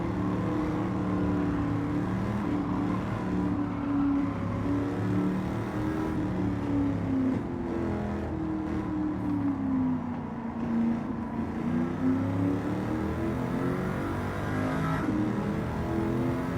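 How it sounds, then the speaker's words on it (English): A car engine in Forza Horizon 5 drones and revs with rising and falling pitch, a sustained throaty roar that swoops down and back up across the stretch. It plays alone at a steady, fairly loud level without speech. "Oh, listen to this car."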